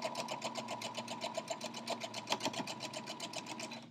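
Sewing machine stitching along the edge of a quilt block with a quarter-inch seam, giving a fast, even needle chatter that runs nonstop, close and fairly quiet.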